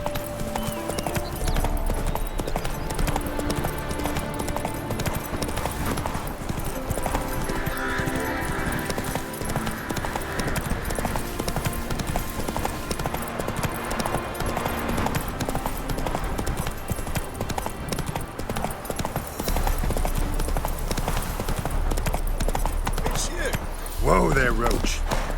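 Hooves of Roach, Geralt's horse in The Witcher 3, clip-clop steadily and continuously at close range for the whole stretch, with speech over the top.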